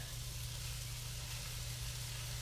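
Chopped corned beef frying in butter, giving a steady, even sizzle close by with a low hum underneath and no pauses.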